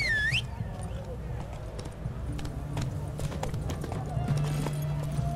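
Hooves of Roach, the horse in the video game The Witcher 3, clip-clop steadily at a gallop close by, with a brief whinny-like sound at the start and low rumbling ambience underneath.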